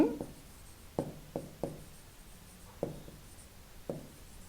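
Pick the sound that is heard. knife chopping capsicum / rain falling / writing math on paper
writing math on paper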